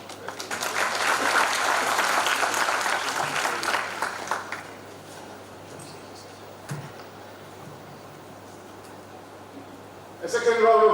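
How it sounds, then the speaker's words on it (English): A crowd claps loudly for several seconds, then the applause fades out, leaving quiet room tone before a voice begins speaking at the end. "A second round of applause to Agnes."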